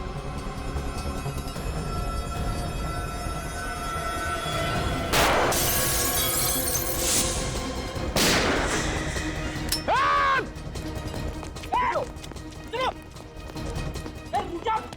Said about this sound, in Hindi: फायर कहां से हो रहा है?